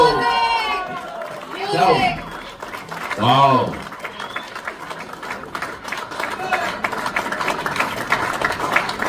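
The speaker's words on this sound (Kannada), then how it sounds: "ಜೋರಿಗೆ ಚಪ್ಪಾಳೆ ಬರಲಿ" A crowd claps at the Karnataka Choreographer Cricket League tournament, a dense, sustained patter of applause that swells in the second half after loud, excited announcing over a microphone.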